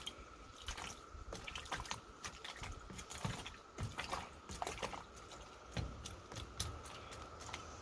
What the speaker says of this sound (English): So I'm just washing them off and just washing them off